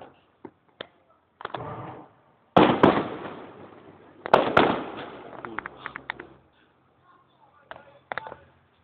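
Folk-festival fireworks bursting outdoors: several sharp cracks and pops, then dense crackling volleys in two loud clusters, with scattered single bangs before and after, with no talk.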